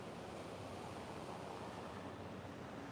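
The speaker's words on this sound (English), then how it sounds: "Feel this ocean breeze." A constant wash of ocean surf and breeze at an oceanfront beach, a dense, even roar with no distinct breaks or voices.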